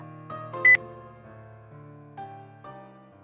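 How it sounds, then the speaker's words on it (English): A phone being switched off gives a short electronic beep, heard once over soft sustained music tones in the visual novel Dies irae, with a faint click at the end. "I heard the beep of the phone being turned off from behind"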